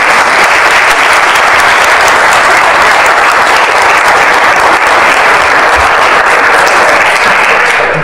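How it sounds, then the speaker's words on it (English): Loud, sustained applause from an audience honoring three graduating student athletes at a senior letter-of-intent signing ceremony, dense and steady throughout with no breaks. "join me in giving these 3 a big round of applause"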